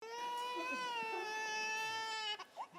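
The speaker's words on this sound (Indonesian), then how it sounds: "ini suara bayi" A baby crying in a sustained, wailing tone close by, holding one long cry before breaking into short sobbing gasps at the end.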